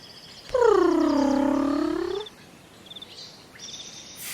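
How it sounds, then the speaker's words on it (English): A tigress gives a single drawn-out, cat-like rumbling call lasting under two seconds, heard alone and close. "She purred and rubbed her side against the boy, just like a little kitty cat."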